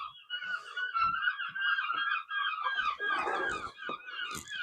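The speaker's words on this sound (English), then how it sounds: "God, listen to those seagulls." A flock of seagulls calls steadily outdoors, with overlapping honking, squawking cries at moderate distance that carry on without a break, joined by some lower rumbling noise partway through.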